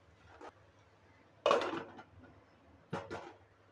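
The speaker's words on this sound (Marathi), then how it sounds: "आता ही घेवड्याची भाजी आहे ना आपल्याला मिक्स करून घ्यायची आहे।" Spoon scraping and knocking against a pan while ghevda (flat bean) bhaji is stirred in a home kitchen, three soft clatters spread over a few seconds, faint and close with quiet gaps between.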